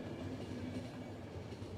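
A train runs steadily in the video game The Final Station, a continuous rumbling rail drone with a faint tonal hum, loud and close throughout with no voices.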